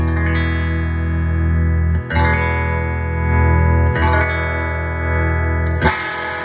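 Sustained, saturated electric guitar chords from a single-coil Fender Esquire through a Fender tweed Deluxe 5E3 clone tube amp ring out with heavy overdrive, re-struck about every two seconds with a fuller, gritty tone and no talking.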